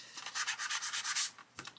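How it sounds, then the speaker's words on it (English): A sanding sponge rubs over the painted surface of a scale model marked with a side roundel, with a steady run of short scratchy strokes followed by a brief pause and a few more rubs, close and fairly loud with no talking. "I can take a sanding sponge"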